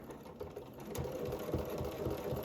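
A domestic sewing machine quilts with a ruler foot, its motor whirring in short bursts and pulsing needle strokes at moderate volume, alone without talk.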